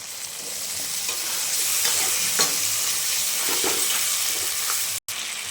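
Masala frying in oil as boiled peas are tipped into the pan, a loud continuous close sizzle with scattered scraping stirs and a brief cut near the end.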